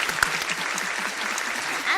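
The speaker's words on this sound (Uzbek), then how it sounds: "Biz sizga mana bu qarsaklarni yo'llaymiz" A studio audience applauding, dense continuous clapping throughout, with voices faintly mixed underneath.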